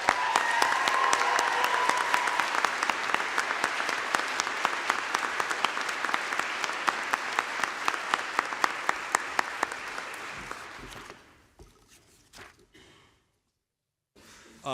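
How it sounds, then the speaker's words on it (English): Loud applause from a crowd at a law school commencement, dense clapping that gradually thins to scattered claps and fades into silence. "Let's give them all one more round of applause."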